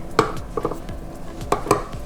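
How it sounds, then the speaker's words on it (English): Spatula scraping sugar from the sides of a mixing bowl and its paddle while making gluten- and dairy-free strawberry shortcake, giving a few short, close clinking scrapes in two quick pairs with quiet gaps between. "Get all the sugar off the side of the bowl and off the paddle."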